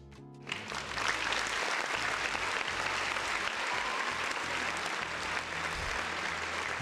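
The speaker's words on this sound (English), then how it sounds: "round of applause to everybody in the chat" Applause during a livestreamed gaming talk show, a steady wash of clapping that starts after a brief quiet moment and continues evenly at moderate-low volume with a low hum underneath.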